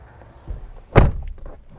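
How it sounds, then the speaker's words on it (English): The door of a 2021 Toyota Highlander XSE AWD swings shut with a single solid thunk, close and brief, framed by faint movement sounds inside the cabin. "Shutting the door"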